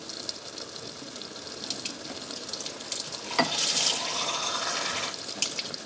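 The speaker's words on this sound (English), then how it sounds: "So we're going to add some more water." Tap water running into a pot of Italian beans in a home kitchen, a steady close pour with a splashy surge in the middle before settling back to a constant stream.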